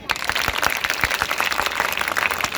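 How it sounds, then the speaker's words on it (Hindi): A school audience at a parents' worship day event claps for the principal, with dense, continuous applause and some louder individual claps standing out near the front. "अपने आदरणीय प्रधानाचार्य जी के ताली बजाते हैं।"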